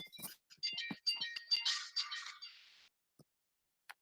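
A phone rings with an incoming call, a short bright chiming ringtone of rapid high tones in a quiet room, fading after about two seconds, with a couple of faint clicks afterwards.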